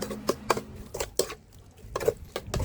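Beef stir-fries with aromatics in a pan for a Thai-Lao aom dish, a spatula scraping and clanking against the metal in quick irregular strokes, close and fairly quiet.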